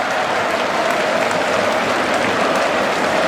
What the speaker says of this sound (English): The whole crowd on their feet. He waves to them, they cheer back.